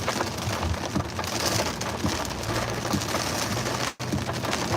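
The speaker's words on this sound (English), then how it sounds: "Look, it's straight pouring out here." Heavy rain pouring down outdoors, a dense continuous loud hiss of drops striking surfaces, steady throughout with one brief dropout near the end.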